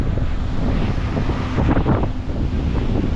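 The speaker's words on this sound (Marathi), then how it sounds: "समुद्र बघा लाटा बघा लाटा" Strong wind buffeting the microphone over a steady roar of surf on the Mumbai seafront, loud and continuous with no voices.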